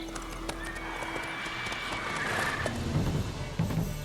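A horse gallops in the video game The Witcher 3: Wild Hunt, its hooves clip-clopping rapidly close by, with a whinny and a sudden heavy landing toward the end.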